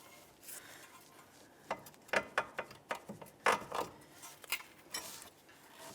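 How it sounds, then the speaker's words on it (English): Metal clanks and scrapes as a pry bar levers a ball joint free from the lower control arm of a 1999-2003 Toyota Solara, a quiet run of irregular close knocks and ticks. "I'm going to try to pry down on this so I can separate the ball joint from the lower control arm."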